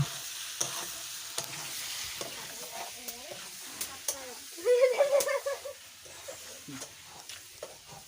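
Meat curry cooking in a pan, a soft ongoing sizzle broken by stirring clinks and scrapes, with a brief louder bubbling burst partway through, close and fairly quiet.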